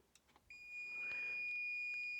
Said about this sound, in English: the buzzer is going off, as you can hear that